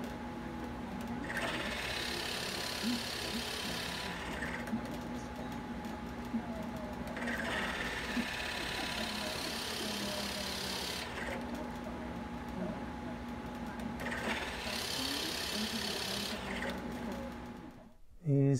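A router bit cuts slowly through dense Brazilian cherry wood in a small shop. Three long passes of harsh, whirring cutting noise rise over a constant motor hum, close and moderately loud.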